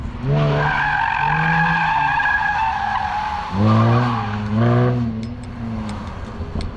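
Loud, drawn-out tire squeals from a Jaguar F-Type drifting in a parking lot, rising and falling in pitch, several long skids in succession with a brief lull between them.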